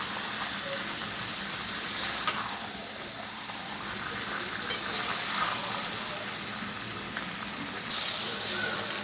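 Duck curry with spices sizzles in a pan at a low, even level while it is stirred and turned, with a few faint clinks of the utensil and no talk.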